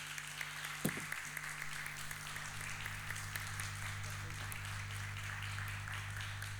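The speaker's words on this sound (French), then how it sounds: "je pense qu'on peut applaudir nos intervenants" Audience of parliamentarians and officials at a conference on animal experimentation applauds the panel speakers; a continuous, fairly distant patter of clapping over a steady low electrical hum, with a brief knock early on.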